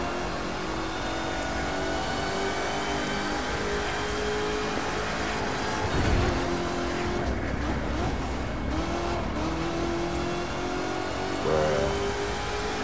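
Supercharged V8 of a Corvette C7 ZR1 in the racing game The Crew 2: a continuous loud engine drone holding high revs, with a couple of brief shifts and surges in pitch, no talk.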